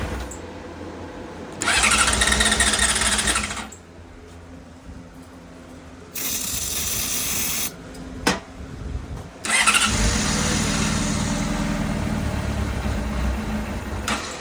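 A Honda CBR600RR motorcycle engine cranks cold in three separate bursts of starter whirring with short pauses between, each run loud and steady, the last one holding longer.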